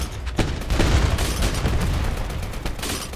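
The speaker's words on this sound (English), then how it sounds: "Firing off the machine gun." A mech's machine gun in Mech Havoc: Urban Conflict fires a steady, loud stream of rounds with a few heavier booms mixed in, heard over ongoing battle noise.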